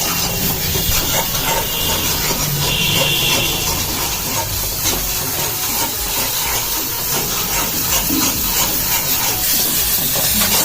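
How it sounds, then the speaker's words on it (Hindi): Masala spices roasting in a pan for a matar mushroom curry, a loud continuous hiss and sizzle with faint scraping, no talking. "मसाला भूना जाता है।"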